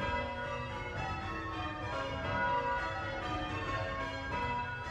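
Church bells ring out at Frome Festival in Somerset, overlapping tones sounding repeatedly at moderate distance and ringing on with sustained resonance, no voices present.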